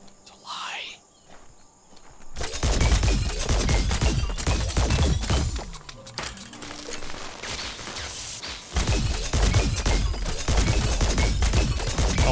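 Bursts of rapid gunfire from fights against enemies in the video game Biomutant, dense crackling volleys starting abruptly and recurring with brief pauses, with game noise throughout.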